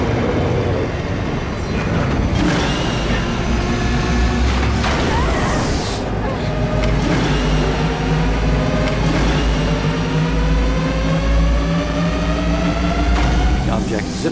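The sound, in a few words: engine revving sound effect for UFO takeoff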